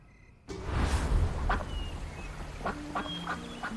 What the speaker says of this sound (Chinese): 这河边还有鸭子呢